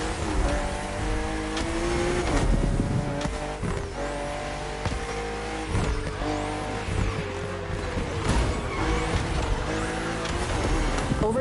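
Racing cars roar continuously along a narrow road full of sharp bends, engines revving and shifting with occasional tire squeal, loud and close throughout.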